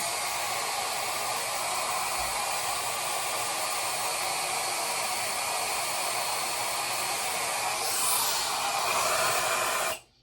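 A Shark hair dryer blows hot air in a steady, loud, continuous whoosh that runs unbroken for about ten seconds and then cuts off abruptly.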